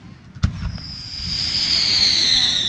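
Fireworks at a Lancaster display: a sharp bang from an exploding shell, then a crackle and a long hissing fizz that holds steady to the end, with faint voices of onlookers nearby.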